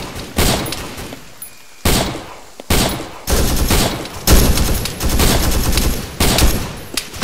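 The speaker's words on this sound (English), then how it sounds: "we're taking shots directly from the west" Video-game gunfire crackles in loud, overlapping bursts and volleys, with sharp shots and rapid automatic fire cutting in repeatedly across the whole stretch, close and dense with no talking.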